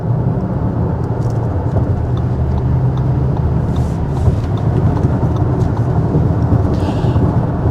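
A 2025 Audi Q8 55 Quattro TFSI SUV moves at higher speed, a steady, broadband rumble with road and wind noise filling the whole stretch without pause.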